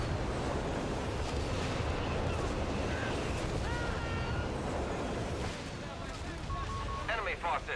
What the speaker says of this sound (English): the Nebelwerfers are going to open up right on the 17 pounder